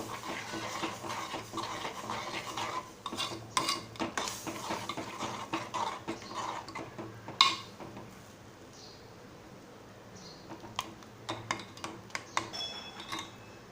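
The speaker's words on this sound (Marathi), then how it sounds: "अर्धी वाटी कुर्दाचं पीठ असं मी घातलेलं आहे आता व्यवस्थित ढवळून घेणार आहोत" A spoon scrapes and clinks against a metal pot as horse gram flour is stirred into water, in a series of quick, close, irregular strokes that thin out toward the end.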